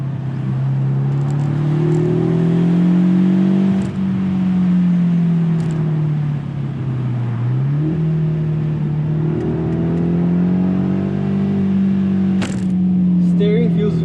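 A Mercedes-Benz SLC 300 engine pulls steadily under acceleration from inside the car, a loud continuous drone that rises, dips briefly mid-way and climbs again.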